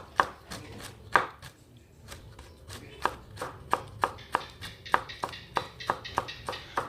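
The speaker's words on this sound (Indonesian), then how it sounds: "Di sini saya mengiris tipis-tipis kurang lebih 4 lenjer kacang panjang ya." Knife thinly slicing about four long beans on a board, giving a steady run of crisp, close chopping taps that quicken toward the end, with no talk.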